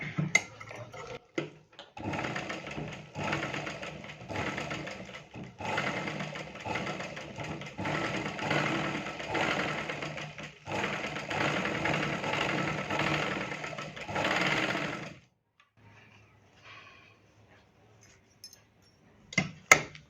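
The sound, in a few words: sewing machine stitching a blouse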